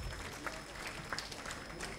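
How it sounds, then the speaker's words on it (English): At the Arewa House 50th anniversary event, an audience claps for the Kaduna State governor, a dense, fairly distant wash of applause that carries evenly throughout. "Please, let's give him another round of applause."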